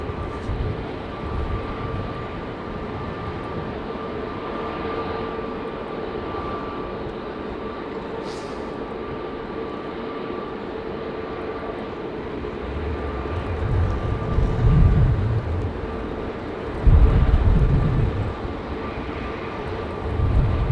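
Qatar Airways Airbus A350 jet departing on runway 09, a steady distant engine drone with a sustained whine, growing into louder low rumbling bursts toward the end.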